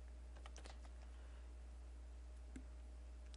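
Keys clacking on a French computer keyboard, a quick burst of taps early on, then a pause and one more sharp keystroke, soft and close over a steady low hum.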